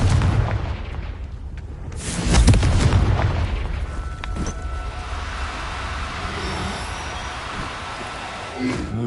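A Confringo fire spell explodes in Hogwarts Legacy, a heavy rumbling boom that swells near two seconds and then trails off into a sustained low roar and faint tonal hum.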